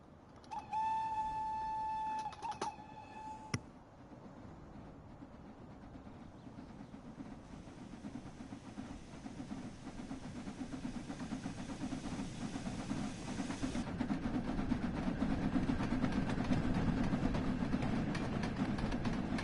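Flying Scotsman steam locomotive in Train Sim World 6, a whistle sounding early on, then a steady rising rumble of the train running, loud and continuous.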